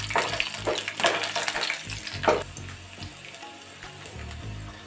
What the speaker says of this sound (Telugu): ఇప్పుడు మనం వెల్లుల్లిపాయ రేకులు వేసుకుందాం.